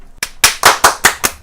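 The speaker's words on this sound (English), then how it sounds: "Here's a clip of me ironically clapping to try and sync" Seven sharp, loud hand claps ring out in an even, quick rhythm, struck to sync audio. Each snap is crisp and close, with nothing else around it.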